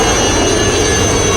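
A Cheetah military helicopter passes during the 1987 Republic Day Parade, a steady loud engine and rotor roar filling the whole moment with no voices.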